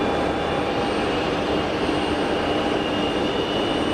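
An easyJet airliner on the runway at Geneva Airport on a hot afternoon, its engines giving a steady, loud broadband roar that holds unchanged throughout, with no voices.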